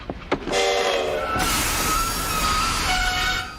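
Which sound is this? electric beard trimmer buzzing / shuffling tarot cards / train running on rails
train running on rails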